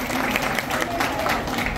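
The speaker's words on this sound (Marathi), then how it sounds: "यांच्यासाठी जोरदार टाळ्या वाजून जाऊ दे." A crowd of guests claps steadily through the moment at a family baby shower, a dense, continuous patter with a faint murmur of voices beneath it.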